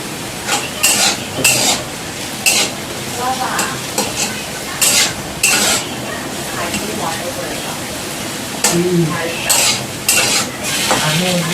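Potatoes fry for chowmein in a pan, a constant sizzle broken by repeated sharp scraping bursts of stirring against the metal, with a voice briefly heard.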